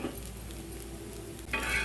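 Freshly flipped adai, a lentil crepe cooked with oil around it on a pan, gives off a steady, close, faint sizzle, and a brighter crackle rises near the end. No one speaks.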